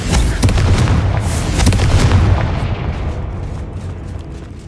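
Confringo fire spell explosion in the video game Hogwarts Legacy, a loud booming blast with a few crackling bursts early on, then a long rumbling fiery tail that fades over several seconds.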